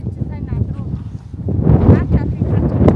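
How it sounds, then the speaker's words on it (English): Gusty wind in Mongolia's Gobi Desert buffets the microphone in heavy, uneven bursts, with a person talking underneath the roar. "It's super windy right now"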